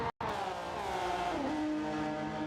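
A Gran Turismo 7 race car engine screams at high revs, holding a steady loud whine that dips briefly and then climbs again, with no voices.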